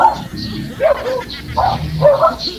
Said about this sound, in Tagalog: Marami ho yata kayong bisita, sir. Maraming aso.